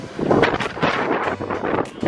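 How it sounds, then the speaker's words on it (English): Strong outdoor wind buffets the microphone in loud, rumbling gusts that surge and ease over about two seconds, with no clear voices. "it's pretty windy"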